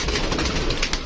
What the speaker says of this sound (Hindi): ये हमारे पास बचे हैं कबूतर